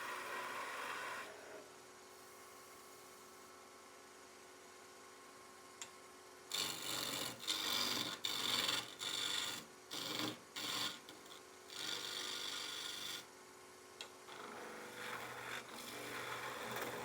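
A skew chisel roughs down a wooden blank on a lathe, making broad rasping cuts in several bursts of about a second each over a steady motor hum.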